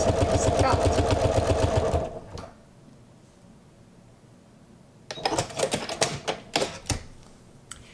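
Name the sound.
sewing machine stitching fabric onto felt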